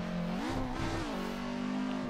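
Street car engine idling high, then revving up sharply as the clutch is kicked, holding briefly before dropping back to a steady growl, close and alone.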